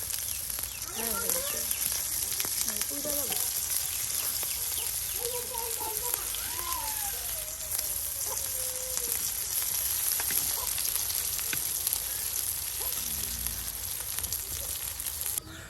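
Prawn fritters crackle and sizzle steadily in hot oil over a high flame, a dense, continuous frying hiss running the whole time with faint voices in the background.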